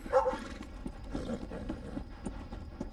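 A horse clip-clops along in Red Dead Redemption 2, a few fairly quiet hoof falls in loose rhythm over a low ambient background.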